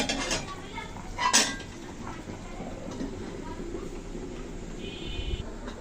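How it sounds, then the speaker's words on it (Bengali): A metal lid is set onto a pot of simmering curry, making one brief, sharp clank near the start over a low, steady kitchen background. "এখন ঢাকা দিয়ে রান্না করব।"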